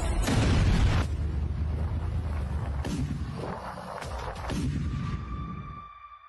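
A heavy blast from the cannon of an Argentine TAM 2C A2 tank booms loudly with a deep rumbling roar, followed by rolling echoes and debris-like crackle that fade out over several seconds.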